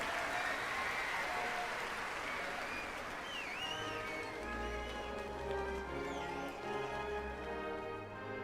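Applause from a crowd in the London 2012 Olympic video game, a broad clapping wash that thins out as low engine-like hum and musical tones come in, with no talk.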